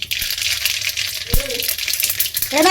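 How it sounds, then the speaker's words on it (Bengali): Curry leaves and mustard seeds tossed into hot oil for tempering a vegetarian okra dish, a bright crackling sizzle with a thud and clatter midway. "এবার দিয়ে দিলাম এর মধ্যে আর কারি পাতা, আর দিয়ে দিচ্ছি সর্ষে ফোড়ন।"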